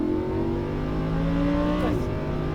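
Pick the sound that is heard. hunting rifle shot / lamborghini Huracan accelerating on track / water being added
lamborghini Huracan accelerating on track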